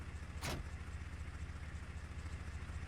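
A tractor engine idling steadily in the Farming Simulator video game, a low continuous rumble with one brief sharp mechanical noise near the start.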